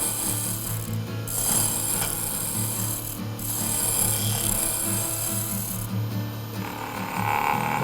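A wood turning tool scrapes and rattles against a turned kitchen scoop spinning on a lathe, a steady rasping, gritty chatter with short breaks, close and loud with no talk.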